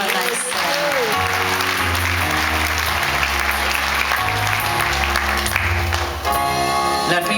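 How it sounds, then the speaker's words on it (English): Steady applause from an audience fills the clip, with music playing beneath it, sustained at an even level throughout. "How about a nice hand for Dickie on sound? Give him a nice hand"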